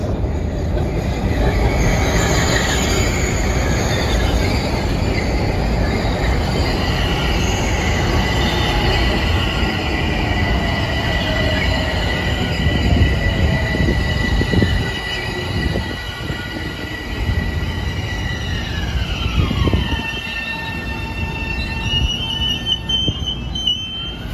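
A Metro-North commuter train from Southeast passes on heavy rail, a loud sustained rumble with rising wheel squeal and drawn-out metallic screeching that fades slightly toward the end, with no voices.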